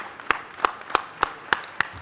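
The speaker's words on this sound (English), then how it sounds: "Tom deserves a huge round of applause for that, for all of his work at the zoo." Scattered, fairly close hand claps ring out at a city council meeting, about six sharp claps at a steady, unhurried rhythm against a quiet room. The clapping sounds sparse, like only a few people taking part.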